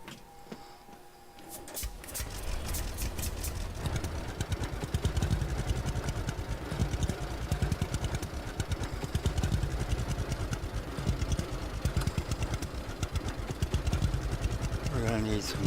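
A tractor engine in Farmer's Dynasty 2 starts up after a quiet moment and then runs with a steady rhythmic chugging clatter, loud and close, while a voice talks over it.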